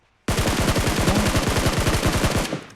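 Sustained automatic gunfire in PUBG Mobile, a loud rapid burst of evenly spaced shots rattling for over two seconds, close and continuous, with no talk over it.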